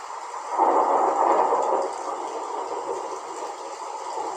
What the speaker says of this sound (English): The crashing of thunder.